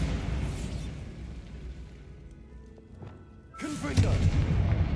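A Bombarda blast spell in Hogwarts Legacy bursts near the end as a sudden loud explosive boom with rumbling debris, following a quieter stretch of game ambience.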